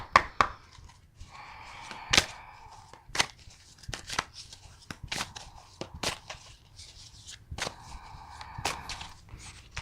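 Tarot cards being shuffled by hand, with sharp riffling snaps and soft slides repeating in irregular bursts, close and fairly quiet, no voices.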